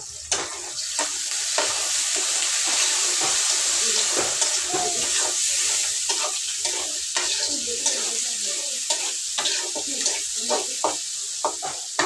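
Cut tomatoes stir-frying in oil in a home kitchen pan, a steady sizzle under repeated scraping and stirring strokes, close and continuous with no talk.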